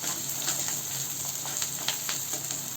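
Onion and green chillies sautéing in hot oil after cumin seeds splutter, a steady close sizzle with faint scattered crackles and the odd stir, no voices.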